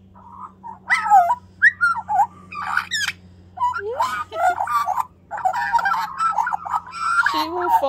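A young Australian magpie chatters near at hand in a string of warbling, whistled and squeaky calls with short gaps, over a low steady hum.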